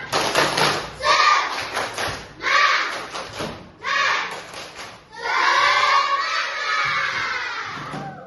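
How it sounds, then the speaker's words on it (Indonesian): A classroom of Indonesian schoolchildren loudly chant a rhythmic spirit clap together, in four close, energetic shouted bursts with brief pauses, the last one held longest. "Coba sih sekarang tepuk semangat."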